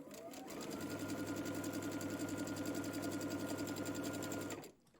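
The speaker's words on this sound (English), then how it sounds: "we are going to sew right on that line" A sewing machine stitches along a marked line on quilt fabric, running as a fast, even mechanical whir and rattle for about four and a half seconds before stopping abruptly, close and clear with no talking.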